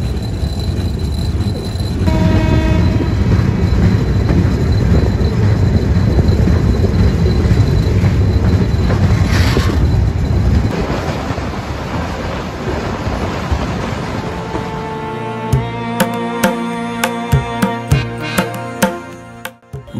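The Ruposhi Bangla Express intercity train thunders past Bhanga railway junction, a loud sustained roar of rolling wagons that fades after about twelve seconds into clanking wheel and rail knocks and a final thump.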